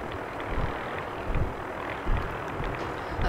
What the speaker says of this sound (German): Die fliegen da gerade mit dir, die Hubschrauber.